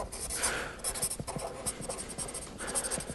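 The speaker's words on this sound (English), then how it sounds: "so I'll write it out" A lecturer writes on a classroom board with scratchy, uneven strokes and light taps, close and continuous, with faint room noise and no talking.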